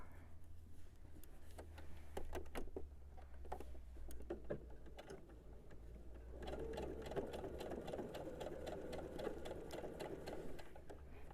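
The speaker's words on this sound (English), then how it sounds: "And now we're ready to sew." A domestic sewing machine stitches a quilt block, a steady rapid mechanical clatter running throughout, quieter at first and picking up speed and density in the second half.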